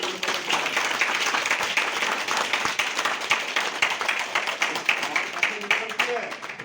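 An audience at a direct selling event claps for achievers, a dense, loud, continuous patter of many hands with a voice over it at times.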